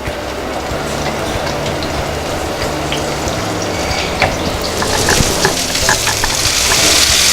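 Onions and garlic sauté in a hot pan, a close, steady sizzle that builds louder toward the end over a low background rumble.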